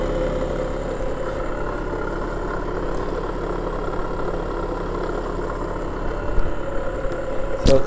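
An attraction motor with 3 phase timing runs at full power, a steady close hum and whir with a constant low drone and faint high whine, unbroken across the clip with a slight rise at the end.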